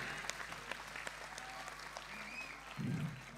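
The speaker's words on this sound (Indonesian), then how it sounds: "tepuk tangan semuanya" Applause from a Javanese comedy audience during a deklamasi performance, a moderate patter of clapping with a few sharper individual claps, heard from a middle distance amid room noise, with a low rumble near the end.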